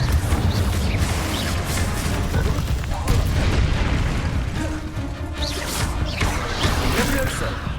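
Confringo fiery blast spells in the wizarding game Hogwarts Legacy boom repeatedly through a busy, loud combat mix, with heavy rumbling impacts and crackling bursts layered throughout.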